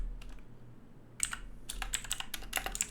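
Quick, uneven keystrokes on a computer keyboard with an English layout, typed in bursts with short pauses. The clicks are close and crisp, with no voices.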